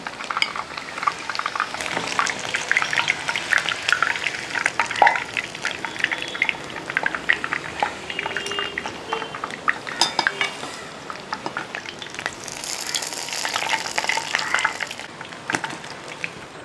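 A pineapple evening snack deep-fries in oil, a long bubbling sizzle up close, with frequent clinks and scrapes of a metal ladle turning and lifting pieces from the pan.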